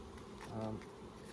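Honey bees buzz steadily around an open beehive, a close, continuous droning hum that swells briefly in the middle.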